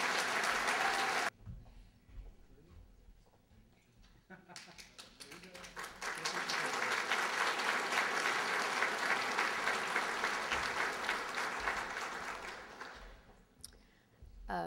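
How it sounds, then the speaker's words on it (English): An audience gives a standing ovation at an evening awards event honoring a 2012 Ambassador of the Year. Loud, dense clapping comes in a short burst, pauses, then swells again and holds strongly for several seconds before fading. "thank you for standing in your applause"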